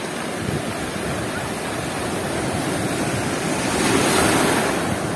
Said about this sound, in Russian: о, какая волна пошла.